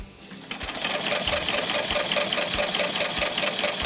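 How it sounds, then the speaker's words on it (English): A sewing machine stitches leather in a workshop, its rapid regular mechanical clatter running steadily and loudly after it starts up. "I'm going to start my first stitch. Then I have to back stitch it, and then I can go."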